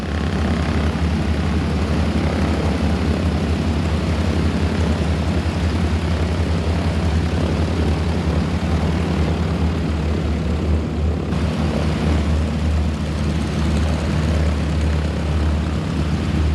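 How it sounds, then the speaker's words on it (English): A T6 propeller airplane in flight, its engine a loud, steady droning roar that holds unbroken throughout with no voices. "The T6 is a lovely airplane to fly in formation."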